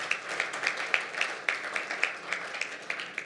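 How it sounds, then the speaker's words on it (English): A small audience applauds the facilitator at a Zimbabwe debt-arrears side meeting. The clapping is faint and sparse, with individual claps standing out in a loose, uneven rhythm, and is heard at a distance. "Let's give him a round of applause."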